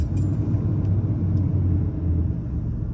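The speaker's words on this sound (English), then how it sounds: "We'll go ahead and get it started up." A 1992 Ford F-250 XLT 4x4 with a 460 cubic inch V8 runs close by, a heavy, steady low rumble with an even burble and no speech.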